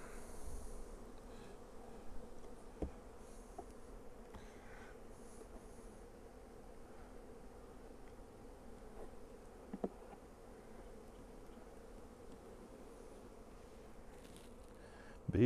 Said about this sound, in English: Bees are very calm.